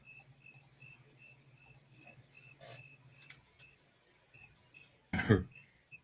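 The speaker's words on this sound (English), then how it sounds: "The crickets are very impressively loud and awesome tonight." Night crickets chirp in a steady, repeating high pulse throughout, fairly faint and continuous, with a low hum beneath and a brief louder clatter near the end.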